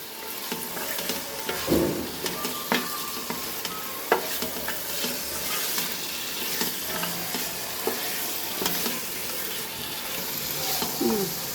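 Chicken frying with spices for Bangalore-style dhonne biryani: a steady loud sizzle with repeated scraping and clanking stirs against the pan, plus faint watery splashes and brief voice fragments.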